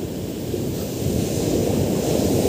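Ocean surf roars steadily, a loud, continuous wash of breaking waves mixed with some wind rumble.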